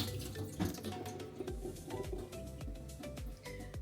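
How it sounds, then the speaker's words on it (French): Food from a glass jar is drained and rinsed under a running sink tap, giving a close, continuous splashing water sound broken by uneven drips and spatters, with no voices. "Je les égoutte, je les rince."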